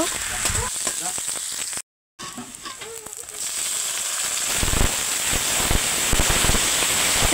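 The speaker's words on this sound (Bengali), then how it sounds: "এবার পেঁয়াজ দিয়ে দিব। পেঁয়াজটা লাল লাল করে ভেজে নিব।" Onions fry in hot oil with cinnamon, cardamom and star anise for chicken masala, a loud close sizzle and crackle with stirring clicks, a brief cut to silence, then a steadier hiss.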